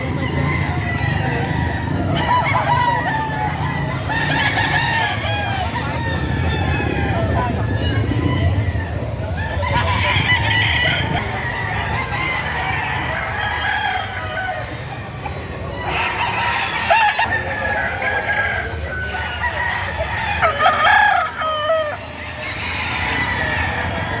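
Several roosters crow and hens cluck close by at a chicken sale in Padre Garcia, Batangas, repeated calls overlapping amid crowd babble and people talking.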